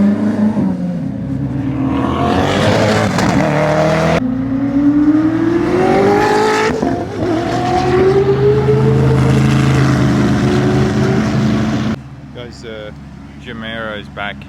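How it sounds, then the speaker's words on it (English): A Koenigsegg Gemera drives laps of the Laguna Seca track, its engine note loud and rising through long pulls as it passes, with a clean shift and a change in tone near the end. "There goes the Gemera."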